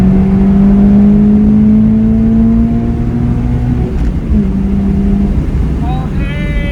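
A Toyota FRS fitted with an Injen cold air intake pulls hard in third gear from a 60 mph roll, its engine note climbing steadily and loud, with an upshift near the end and voices talking over it.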